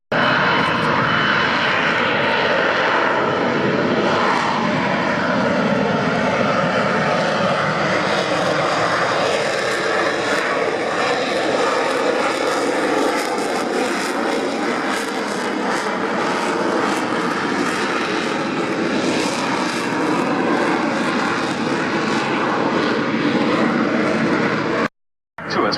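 An aircraft roars steadily overhead at the Royal Navy international air day at RNAS Yeovilton, a loud, continuous engine drone with shifting tone as it slows, cutting off abruptly near the end.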